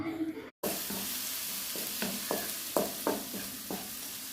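Onions and green chillies sizzle steadily as they sauté in a hot pan. A spoon stirs them, giving several scraping strokes, and after a brief silent gap near the start the frying continues loud and close with no talking.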